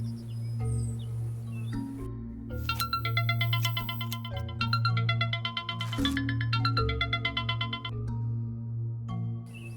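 A phone's ringtone plays in a tense scene from a Hindi-dubbed horror movie, a repeating electronic melody over a low steady hum with no talk.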